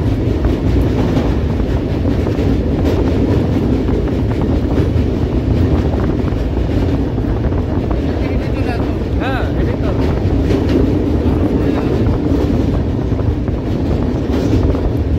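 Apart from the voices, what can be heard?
train in motion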